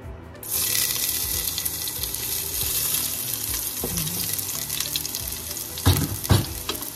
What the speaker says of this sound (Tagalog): So, mainit na ang ating kawali. Lagyan na natin ng garlic.